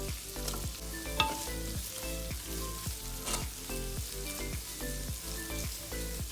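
Chicken fried rice with carrot, capsicum and green onion sizzles and crackles steadily in a hot pan while it is stirred, with a rhythmic scrape of the utensil repeating throughout.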